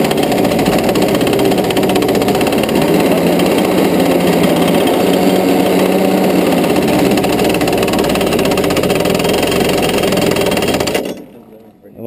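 A clutchless go-kart engine runs loud and steady at a mid-pitched idle-like drone for about eleven seconds, then cuts off abruptly near the end, leaving near silence.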